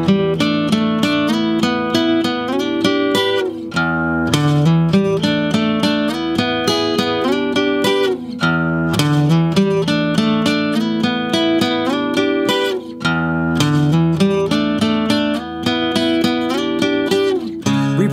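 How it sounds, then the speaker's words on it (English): Guitar solo section of a song, played slowly and steadily: sustained, ringing notes in a continuous melodic line with brief dips between phrases, loud and close, with no talking. "demonstrating this guitar solo section for you,"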